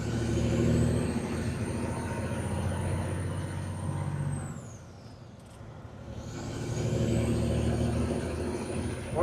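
A 1981 Peterbilt 359 truck with a new PDI clutch and 355 gearing rumbles along the road, its engine pulling loud, then easing off into a quieter dip mid-way before building again.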